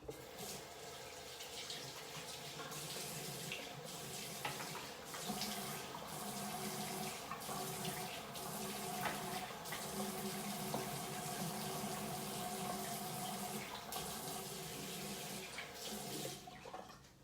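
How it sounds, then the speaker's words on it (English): Running tap water pours steadily into a sink during face washing, a continuous faint hiss and splash with small bursts of splashing throughout, heard alone. "I'm going to wash my face and come back and talk."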